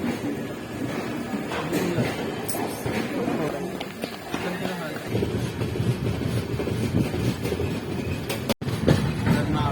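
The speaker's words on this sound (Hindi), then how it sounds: "ये भी यही ट्रेन आ गई" Steady rumble of an Indian express train running on railway tracks, continuous rattling and rolling throughout, heard from on board or close by with voices talking over it.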